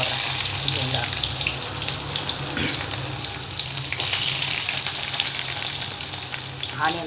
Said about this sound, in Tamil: ஆனியன் நல்லா ஃப்ரை பண்ணிடுங்க.